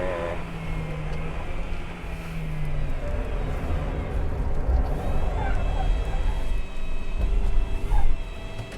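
A three-row minivan runs at full throttle around Tsukuba circuit, its engine droning steadily with a rising tone under persistent in-car talk.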